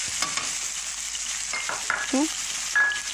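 Onion fries in a cup of oil in a pot for an Egyptian dish, a steady close sizzle with stirring scrapes and utensil clinks, and a brief high squeak near the end.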